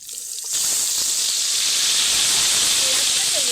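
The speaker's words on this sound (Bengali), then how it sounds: "তো চলুন পেঁয়াজ বাটাটা তেলের মধ্যে দিয়ে দিই।" Onion paste dropped into hot oil for a Bengali small-crab curry, giving a loud, steady sizzling hiss that starts abruptly and carries on evenly, close up and without talk.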